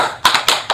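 Three sharp hand claps in quick succession, close and loud, with near silence between them.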